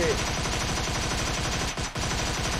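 Rapid automatic Skorpion fire in PUBG Mobile, a steady stream of fast, evenly spaced shots that runs loud and continuous, with one brief break near the end before firing resumes.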